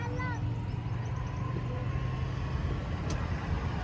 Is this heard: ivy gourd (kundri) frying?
no